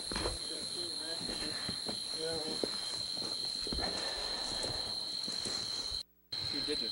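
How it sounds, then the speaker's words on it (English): Crickets outside a bat cave in the James River area, a steady high-pitched chirping drone that carries on throughout, with faint footsteps and a person talking over it. "all you hear are the crickets."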